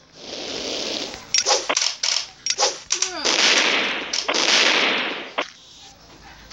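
Shotgun fire in a video game, a rapid series of sharp blasts and clattering bursts, loud and close, with brief gaps between shots.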